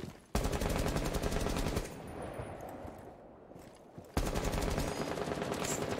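Loud, dense bursts of automatic gunfire from Rainbow Six Siege fill the opening seconds, then a quieter rattling stretch follows before a second heavy sustained volley returns near the end.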